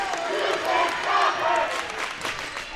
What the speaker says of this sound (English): And the Pembroke faithful cheering